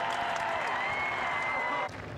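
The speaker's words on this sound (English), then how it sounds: "Let's give him one last cheer down the home straight." A crowd at the Great Yorkshire Show cheers and applauds a rider on the home straight. The applause is a sustained wash of clapping that drops off slightly near the end, and a loudspeaker voice or tone runs faintly underneath.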